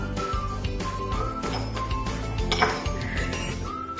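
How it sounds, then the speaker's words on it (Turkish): Spoon clinking rapidly against a glass while stirring toothpaste into purple cabbage water, a dense continuous run of bright ringing taps close by, with no talking. "Üçüncü bardağımıza diş macununu koyuyoruz ve karıştırıyoruz"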